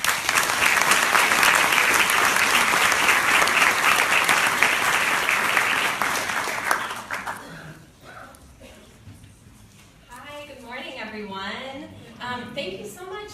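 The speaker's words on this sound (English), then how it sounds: "So let's give Karina a round of applause." An audience at the 2016 AmeriCorps Texas opening day event in Austin claps loudly and steadily for several seconds. The applause then thins and fades as a voice begins speaking.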